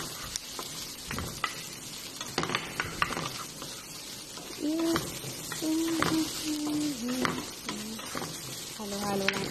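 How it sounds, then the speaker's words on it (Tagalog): Onions and Indomie noodles fry in a pan as they are stirred, giving a steady sizzle with scraping utensil clatter, while a person talks intermittently over the cooking. "Halo-halo lang tayo guys."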